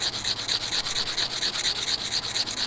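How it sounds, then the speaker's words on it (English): A file rasps back and forth on plastic dentures in quick, even strokes, close and fairly loud, each pass making a bright scratchy rub in a steady rhythm. "I'm sawing, I'm filing and filing and filing up and down in circular motions."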